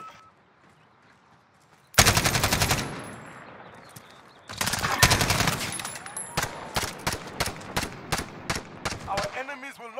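Video game gunfire erupts suddenly as loud sustained automatic bursts, then gives way to a rapid series of separate sharp shots after a brief pause.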